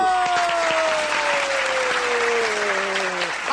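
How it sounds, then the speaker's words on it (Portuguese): A studio audience on a Brazilian TV program in Manaus bursts into loud, continuous applause after a contestant wins a quiz prize, with a descending electronic tone sliding down beneath the clapping. "Aplausos."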